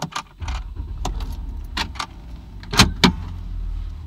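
Keys jangle in several quick bursts while someone gets into a car near the Rio Grande by Falcon Lake in Texas, with metallic clinks close by and light rustling and thumps between them.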